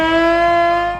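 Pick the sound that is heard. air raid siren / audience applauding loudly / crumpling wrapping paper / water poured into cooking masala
air raid siren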